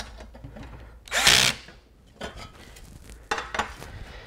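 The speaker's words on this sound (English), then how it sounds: "You can just hold this if you have a drill on the backside, tighten it up like that" A power drill briefly whirs while tightening nuts on lock washers during assembly of an XP2 quadcopter frame, with one loud burst followed by shorter clicks and a second short run of the tool nearby.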